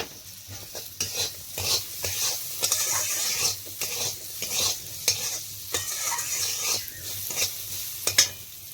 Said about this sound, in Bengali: রসুনটা প্রায় ভাজা হয়ে এসছে এবার আমি কালিজিরা দিয়ে দেবো সামান্য